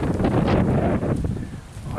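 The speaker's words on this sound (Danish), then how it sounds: "Og det blæser lidt her." Wind blowing outdoors beside a summer house being painted, a steady broadband rush buffeting the microphone for two seconds, strongest at first and easing slightly toward the end, with no voices.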